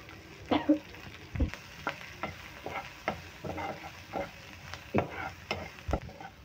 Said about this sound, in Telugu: కరివేపాకు, ఆనియన్ ఈ ఆయిల్లో బాగా ఫ్రై అయిపోవాలి.